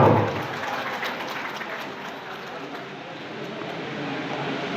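An audience applauds singers of the Ramalingam Kala Mandali troupe, a dense, sustained burst of clapping that is loudest at the start and then holds steady before easing slightly.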